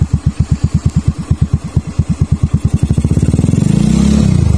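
A Yamaha Mio Smile scooter with an aftermarket Zrc exhaust putters in a steady, loud chug while riding, then the pulses quicken into a continuous drone as the engine picks up speed.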